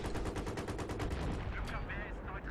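Rapid, loud gunfire bursts from Battlefield 3 co-op combat against anti-aircraft vehicles, a dense stream of shots continuing with no pause for about two seconds.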